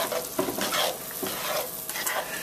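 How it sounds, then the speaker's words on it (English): Mushrooms and spring onion frying in a pan for risotto, stirred with a steady broadband sizzle and repeated scraping strokes against the pan, close and continuous, no talking. "And we are now going to stir this up a little tiny bit."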